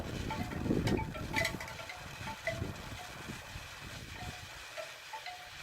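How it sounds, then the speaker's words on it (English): Gusty wind buffets the microphone outdoors at about 48 degrees, producing uneven low rumbling and rushing bursts that rise and fall, loudest early on, with no talking. "A little windy today"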